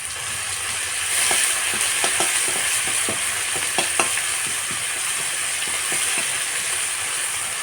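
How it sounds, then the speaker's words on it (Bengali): Garlic paste and garlic leaves fry in hot oil with tempered spices, giving a steady loud sizzle close by. A spatula scrapes and stirs the pan in repeated clacking strokes, with no talking. "এবার আমি এতে দেব রসুন বাটা রসুন পাতাটা দিয়ে একটু ভালো করে মেরে নেব"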